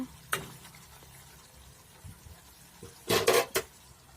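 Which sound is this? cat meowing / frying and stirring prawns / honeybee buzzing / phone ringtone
frying and stirring prawns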